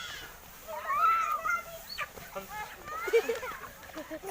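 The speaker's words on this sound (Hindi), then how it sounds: "अरे मुर्गा भाग जाए" A rooster clucks and squawks nearby amid excited voices talking over it, with scuffling noises in the background.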